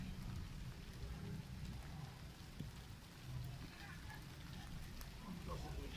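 Light rain falling over rooftops where pigeons are kept, a faint, even hiss with a low rumble beneath, steady throughout.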